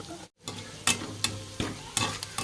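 A spatula stirs a sizzling home-cooked dish seasoned with red chilli sauce and salt in a pan, giving about four close scraping strokes at an uneven pace over a steady frying hiss, with no talking.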